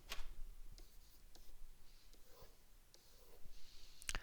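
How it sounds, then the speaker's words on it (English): A pen scratches out a tangent graph on paper in a quiet room, with soft, scattered strokes and short taps spread over a few seconds, faint and close. "Let's go ahead and sketch."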